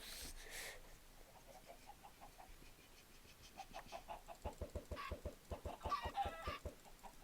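Minecraft chickens cluck in a quick burst of short, repeated clucks that grows louder toward the end, with soft game sounds underneath and no talking.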